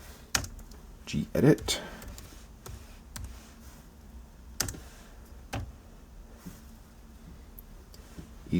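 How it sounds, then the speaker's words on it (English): Keys clack on a MacBook Air keyboard as a terminal command is typed, irregular quiet taps with a short burst near the start, close up, with a voice speaking over part of it. "The way we fix that is we type sudo"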